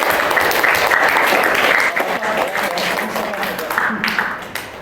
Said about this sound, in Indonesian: Boleh tepuk tangan lagi.